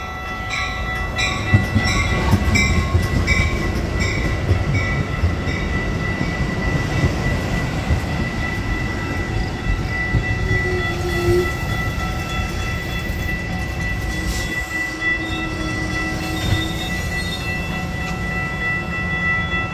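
A Metra commuter train rolls past close by, a loud, steady rumble of wheels and rail noise with sustained tonal whine lasting the whole stretch, no voices.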